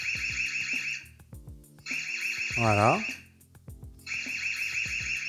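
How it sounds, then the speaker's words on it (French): EZVIZ LC3 security camera siren blaring in loud, shrill bursts that stop and restart, with a voice speaking briefly between them. "Ici, vous avez l'alarme, donc ça va déclencher la sirène."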